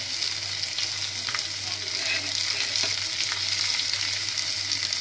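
Ginger, garlic and onion frying in hot oil for a dal tadka, a steady close sizzle with faint stirring scrapes throughout and no talking.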